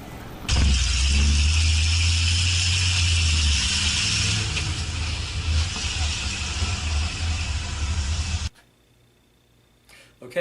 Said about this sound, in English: Just a car with a bike and a horse trailer, right?